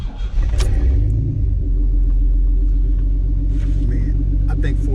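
A 1991 OBS truck with a 4.3 engine rumbles deep and loud as the drive begins, a steady low throb with a brief rise early on, while someone talks over it.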